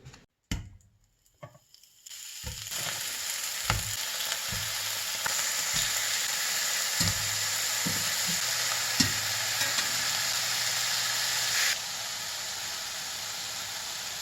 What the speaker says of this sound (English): we need to get them browned up in the skillet